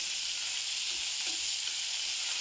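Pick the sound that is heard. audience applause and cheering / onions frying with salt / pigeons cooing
onions frying with salt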